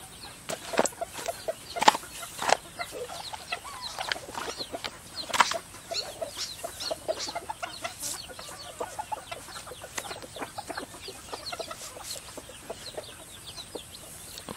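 Chickens clucking nearby in a loose, irregular series of sharp clucks and brief bursts, with occasional wing flaps and quieter stretches between calls.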